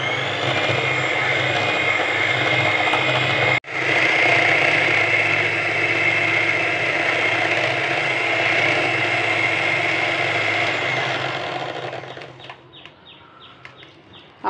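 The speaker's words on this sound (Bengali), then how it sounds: "আমি এখানে সিঙ্গারের হ্যান্ড বিটার ইউজ করেছি, আপনারা যে কোনো ব্র্যান্ড ইউজ করতে পারবেন। প্রথম 5 মিনিট অল্প স্পিডে বিট করে নেব।" A Singer electric hand beater runs at low speed, whipping a vanilla ice cream mixture with a steady, close motor whir that holds evenly before winding down near the end.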